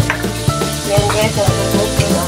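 Tomatoes fry in a hot pan with a steady, close sizzle, broken by regular scraping knocks from stirring about twice a second.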